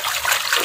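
Water runs steadily over a BoBoiBoy toy as it is washed, a short, fairly loud continuous trickle and splash with no talking.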